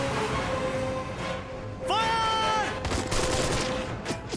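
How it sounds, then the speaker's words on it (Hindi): Gunfire rattles through an action movie scene in quick bursts, overlapping with crashes and tonal sound effects, loud and busy from start to end, with a voice briefly audible in the mix. "ओए गोली चला रहे हैं ये लोग तो।"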